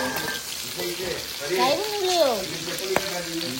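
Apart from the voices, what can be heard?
frying with turmeric in a pan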